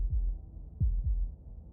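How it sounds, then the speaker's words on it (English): A video game heartbeat sound effect gives three low, muffled thumps over a quiet background hum. The first thumps are close together, and a slight pause comes before the last. "That was the sound of a heartbeat, followed by another,"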